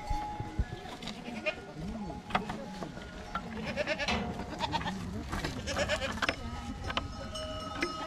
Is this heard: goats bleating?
yes